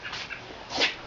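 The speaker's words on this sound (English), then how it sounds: "And you could hear the dogs right across the street." Dogs across the street are faint and distant, with a brief yip or whimper-like bark rising over background noise.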